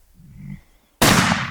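A rifle shot rings out at a hippo during a land-based hunt, one sudden, loud, sharp crack following a brief low rumble, then a long ringing echo fading.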